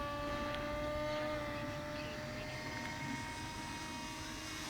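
A Durafly MFX Racer electric RC plane on its maiden flight drones faintly overhead as a steady, distant motor whine against open-air background noise.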